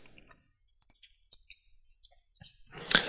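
A computer mouse clicking in a GIS application, a few sharp, faint clicks scattered over a quiet background, with a louder cluster of clicks near the end.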